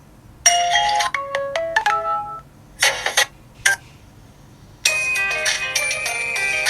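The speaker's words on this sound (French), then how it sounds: "Sonnerie du téléphone, on va mettre le son à fond" A Vkworld VK6050S smartphone plays its ringtone at full volume, a loud electronic melody of rapid chiming tones in bursts separated by short pauses, then a sustained dense stretch near the end.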